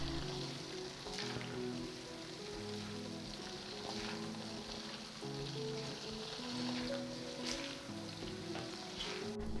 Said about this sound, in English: Bubbles will come out when frying the mushrooms.